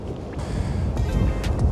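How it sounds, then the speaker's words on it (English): Wind buffets a microphone outdoors in low, uneven gusts that rumble and swell, with no one speaking. "still rather windy."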